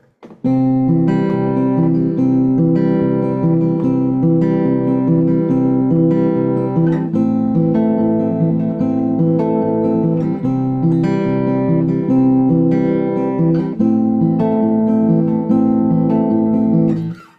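Travis-picked acoustic guitar, playing a steady alternating-bass pattern with the third-string note, picked by the index finger, a little harder, continuous and close, with no voices.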